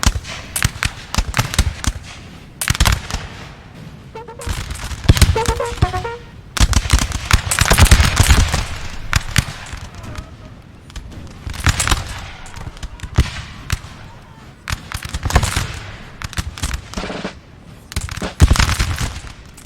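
Musket volleys crackle across the 1796 Battle of Castiglione in Napoleon: Total War, a loud, dense, ragged popping of many shots firing in overlapping waves throughout.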